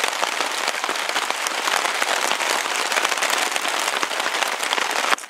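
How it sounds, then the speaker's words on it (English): Rain and wind batter a camping tarp over a hammock in an extreme night storm, a loud, unbroken roar of heavy drops drumming close overhead throughout, with a brief dip at the very end. "So the winds and the rain have picked up."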